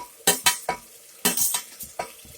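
Dill leaves and curry leaves dropped into hot oil with tomato, giving several sharp bursts of sizzle and spatter, each flaring and then settling, mixed with a few light utensil clinks near the pan.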